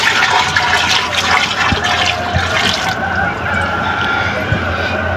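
Water swirled in a tank to mix poultry vaccine, with a loud, steady rushing and churning of water and a few small knocks, close by and without talk.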